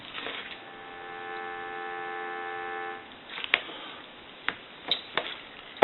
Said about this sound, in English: Now we want to go ahead and give you some dial tone.